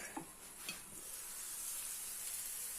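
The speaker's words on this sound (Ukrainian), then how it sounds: "Підсмажилась наша городина" Vegetables sizzling and frying in a pan for a parsnip-stuffed pepper breakfast, a quiet steady hiss with a few soft stirring clicks near the start.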